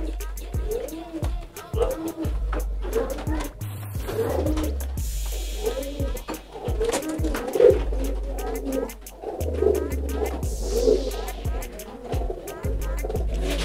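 Pigeons coo in repeated low, throaty bursts at a pigeon seller's place in a village in Krasak, Brebes, close and fairly loud, with people talking over and between the calls.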